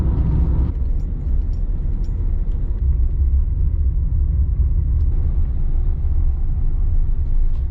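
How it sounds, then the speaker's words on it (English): A small city car drives along a rough forest road in the French mountains, its engine and tyres making a continuous loud, low rumble with no break. "my car is a city car and it's not made for roads like this or adventures like this"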